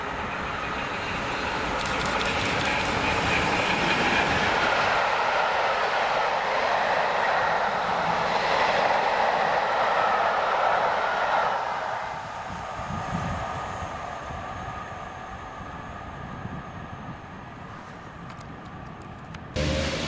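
A train rolls past at Garnqueen in Scotland, a loud sustained rumble and wheel roar that builds, holds for several seconds, then fades away into the distance, with no voices.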